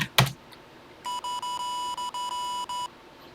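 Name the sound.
TI-99/4A computer beep tones, 1000 hertz, 100 milliseconds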